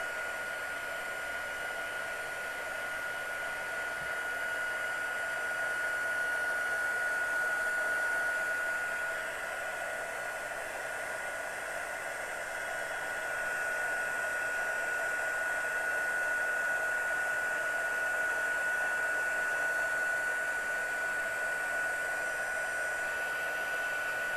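A handheld heat embossing tool heats embossing powder on a holiday greeting card, giving a steady close blower whoosh with a faint high whine that runs unbroken for the whole stretch.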